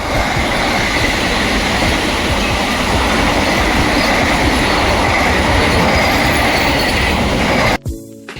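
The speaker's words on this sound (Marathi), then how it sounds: "आता वंदे भारत ट्रेन जात आहे" A Vande Bharat express train on the Central Railway near Diva roars past close by, with loud continuous rumbling and clattering of wheels on rails, ending abruptly as the last carriage passes.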